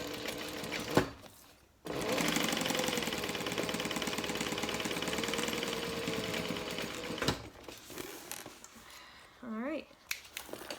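Sewing machine stitching a medium-sized handbag at stitch length 4, running in a steady sustained burst of about five seconds after a sharp clack, then stopping before quieter handling noises.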